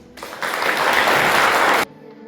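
Audience at a school reading-day stage event breaks into loud, dense applause that swells quickly, holds steady for about a second and a half, then stops abruptly.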